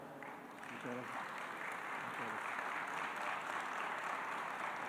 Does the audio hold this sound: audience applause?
yes